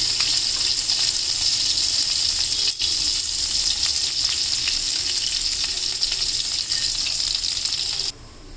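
Cumin seeds frying in butter in a pan give a loud, steady sizzle with constant crackle throughout, easing off sharply just before the end.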